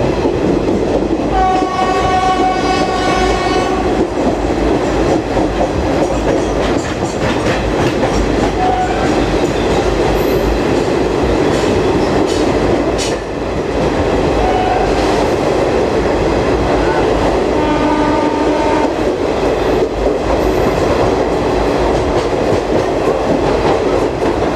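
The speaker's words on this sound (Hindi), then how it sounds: "डोंबिवली रेलवे स्टेशन को भी ट्रेन स्किप कर रही है।" A Garib Rath Express passes through Dombivli station without stopping, with loud continuous rumble and rail clatter throughout, punctuated by sustained horn blasts near the start and again later.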